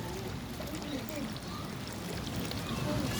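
Water runs steadily from a public drinking fountain in a park in Switzerland, a soft continuous splashing stream heard fairly close, with faint talk over it.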